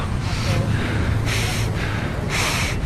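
A runner breathes hard through a face mask, producing three loud, rhythmic airy exhalations between quieter intakes, close to the microphone.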